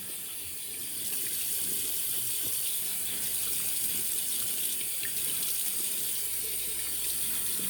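Tap water runs steadily into a sink as a face is wetted before a shave with a Rockwell T2 razor, a continuous close splashing with no talking.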